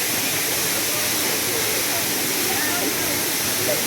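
Toraille waterfall at Soufriere, St. Lucia roars close by, a loud unbroken rush of falling water that fills the whole stretch without pause.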